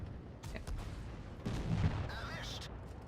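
Sharp cannon blasts and booming explosions from tank combat in World of Tanks Blitz crack out in a short burst, followed by a heavier rumbling blast with a rising electronic tone, while someone talks underneath.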